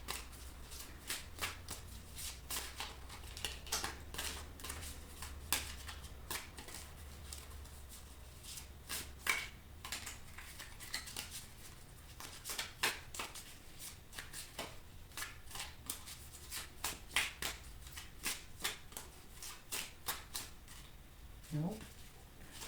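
Energy Healing Oracle cards are shuffled by hand at close range in a long run of quick, crisp riffling flutters and soft slaps that keep a brisk, uneven rhythm.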